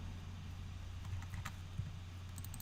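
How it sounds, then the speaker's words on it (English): A deliberately loud mechanical keyboard clacks with quick, irregular keystrokes, close but modest in level over a steady low background hum. "The obnoxiously loud mechanical keyboard is on purpose."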